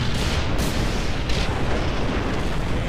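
A loud, dense rumbling blast fills the whole stretch in the World War I video game Valiant Hearts, a continuous roar with no talking.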